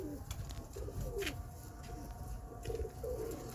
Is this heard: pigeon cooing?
yes